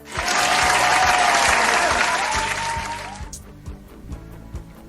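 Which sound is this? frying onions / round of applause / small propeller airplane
round of applause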